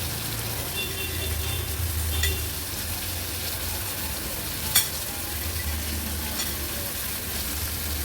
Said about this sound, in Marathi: व्यवस्थित मिक्स करून घेते आता मसाल्यामध्ये